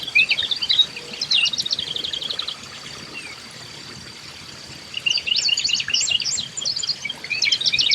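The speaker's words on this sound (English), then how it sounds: "The northern cardinal." A northern cardinal sings in bursts of clear, sharp whistled phrases, loud and close, with a short quiet gap midway before the song resumes.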